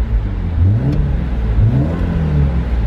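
A BMW E34 M5 engine, warmed up, idles and revs in short smooth rises and falls, close and loud, with no talking.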